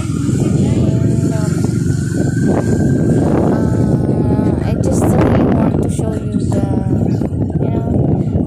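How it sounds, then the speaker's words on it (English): A motorbike engine drones steadily throughout, loud and close, with wind buffeting the microphone and a voice talking over it, on a ride to Hermit Coves in Aloguinsan, Cebu. "driving my motorbike"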